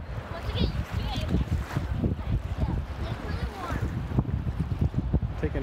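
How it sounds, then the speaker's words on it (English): Jet boat running on the Snake River in Hell's Canyon, a steady broadband engine and water roar with wind buffeting the microphone throughout, while people talk over it. "Taking a jet boat tour"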